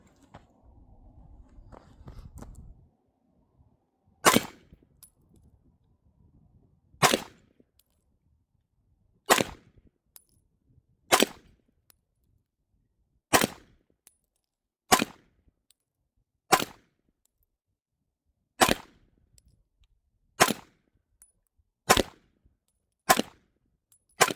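Ten sharp 9mm pistol shots from a Beretta APX A1 with a threaded barrel, fired at a steady, unhurried pace outdoors, each crack loud and close with a short ringing tail, and no talking.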